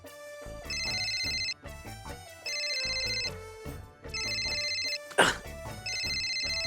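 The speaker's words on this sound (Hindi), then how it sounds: "आपका मोबाइल फोन है, उस पे किसी का फोन आ रहा है।" Mobile phone ringtone for an incoming call at night, a bright repeating melodic ring in four loud bursts with short gaps, one brief sharp noise near the end.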